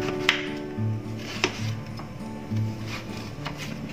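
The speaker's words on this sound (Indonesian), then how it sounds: "Selain kelapa, saya juga akan memotong ini labu kuning." A kitchen knife cuts yellow pumpkin into cubes on a board, giving sharp irregular taps and thuds about once a second under a low steady hum of background noise.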